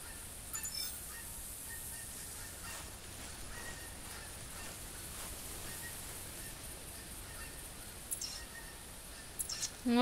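Geese honking in the hunting video game theHunter, Hirschfelden reserve: faint, sparse calls over a steady outdoor ambience, with a few louder honks near the end.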